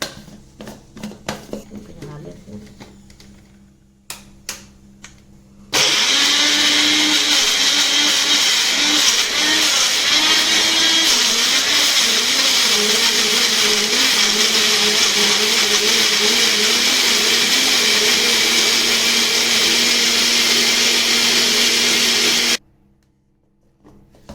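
An electric blender crushes finely chopped green chilies for a Kathiyawadi dum aloo gravy. After some light clatter, a loud, steady motor whir runs close for about seventeen seconds, then cuts off abruptly.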